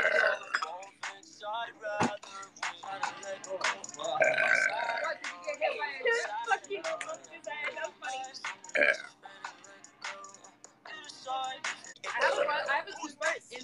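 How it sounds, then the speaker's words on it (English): A teenage girl burps repeatedly during a live stream, short throaty belches scattered among her talking and chatter, close and fairly loud. "that was a weird burp"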